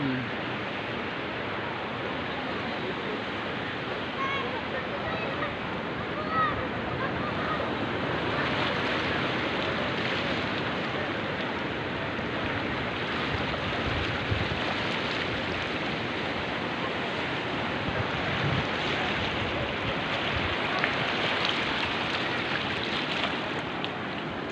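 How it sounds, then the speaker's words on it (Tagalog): Strong ocean surf rolling onto Burgos Beach in Pangasinan, a steady loud wash of breaking waves with wind noise throughout, no distinct pauses between sets. "Ang lakas ng alon."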